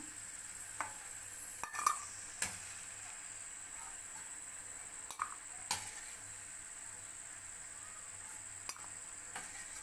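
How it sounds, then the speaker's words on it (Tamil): Semolina (rava) roasting in a kadai over a low flame, with a soft, steady dry hiss and scattered sharp clicks and taps of a spoon scraping the pan, quiet and unhurried. "ஸோ இதே கடாயில் நம்ம இந்த ரவையை போட்டு நல்லா வறுத்துக்கலாம்"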